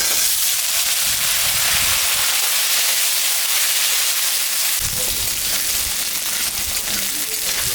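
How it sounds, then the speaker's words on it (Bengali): Potato and papaya frying with onions in a pan: a loud, dense, continuous sizzle close up, with low stirring scrapes coming and going throughout. "পেঁয়াজটা ভাজা ভাজা হয়ে গেছে এখন আমি আলু একটা দিয়েছি আর পেঁপে দিয়েছি"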